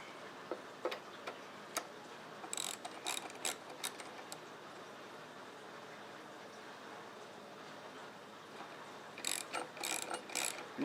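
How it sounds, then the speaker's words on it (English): Socket ratchet tightening the stock on a Browning Gold Hunter shotgun: close, quiet clicking pawl strokes in short irregular runs, with a pause in the middle and a faster burst of clicks near the end, and nobody speaking. "Now we'll take our socket here and we'll tighten it up."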